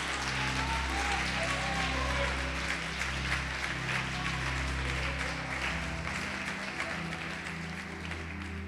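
A church congregation applauds in a continuous patter of clapping with a steady low hum of music and voices beneath it, holding an even level throughout.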